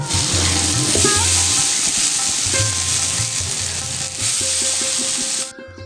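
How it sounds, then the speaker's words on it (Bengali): Raw jackfruit fries in hot oil with salt and turmeric for a Bengali echor dish, giving a steady close sizzle broken by soft stirring scrapes that runs without a pause until it cuts off just before the end. "এঁচড় ভাজার সময় কিন্তু ঠিক আলুর মতোই নুন এবং হলুদ দিয়ে এঁচড়টাকে ভেজে নিতে হবে"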